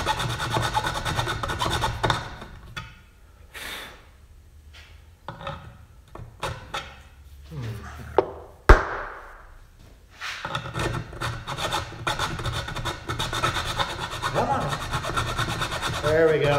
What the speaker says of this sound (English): Now I'm gonna go back to my file, square everything back up here.